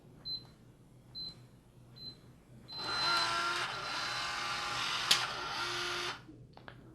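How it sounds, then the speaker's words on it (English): A Schlage Connect smart deadbolt runs its setup routine: three short keypad beeps, then the motor whirs steadily for about three seconds as the bolt moves, ending with a click, close and clear with no talking. "The lock will perform a setup routine. When the bolt stops moving, the process is complete."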